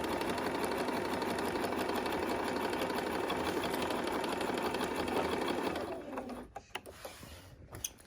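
Sewing machine running a straight seam across a quilt block, a fast continuous needle rattle for several seconds that stops abruptly, followed by quiet handling clicks and a bird cooing faintly in the background.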